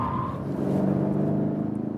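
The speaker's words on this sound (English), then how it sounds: "So you already heard the tires screaming" A heavy BMW M850i coupé corners on a racetrack, its tires screeching in a sustained, wavering squeal over a steady engine drone, moderately loud and close, with no talking.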